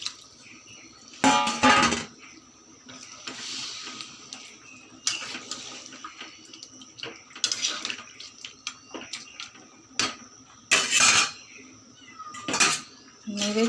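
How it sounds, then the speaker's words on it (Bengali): Water is poured into a pot of Bengali fish-head muri ghonto, with splashing mixed among sharp clanks and scrapes of metal utensils against the pot in uneven bursts. "এখন আমি জল দিয়ে দিচ্ছি, কষানো হয়ে গেছে, আমি জল দিয়ে দিচ্ছি"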